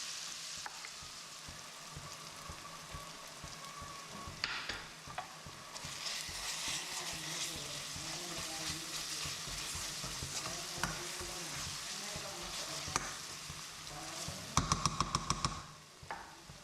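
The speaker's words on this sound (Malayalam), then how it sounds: "അത് കഴിഞ്ഞിട്ട് ജിഞ്ചർ ഗാർലിക് പേസ്റ്റ് ചേർക്കാം." Onions sauté in a pan with ginger garlic paste, giving a continuous, moderately loud sizzle with steady scraping from stirring and a quick run of sharp utensil taps near the end.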